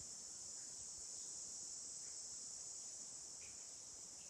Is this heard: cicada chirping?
yes